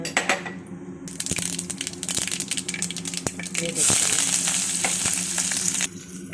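Mustard seeds crackle and sizzle in hot oil in a South Indian kitchen, a dense spattering with sharp pops, growing louder and brighter midway before easing off.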